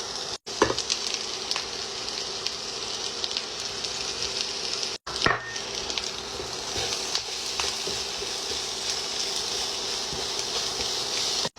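Shrimp sizzles and fries in a pan with herbs and spices, a steady close crackle with occasional stirring scrapes and two brief cut-outs.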